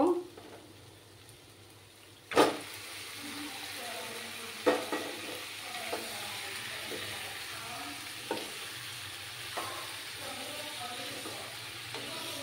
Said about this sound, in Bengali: মশলাটা আমার কষে গেছে। এবার আমি চিকেনগুলো দিয়ে দেব।